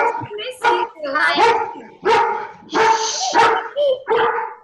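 A puppy barks and yips in a series of about eight short, close, loud bursts, with whimpering tones in between.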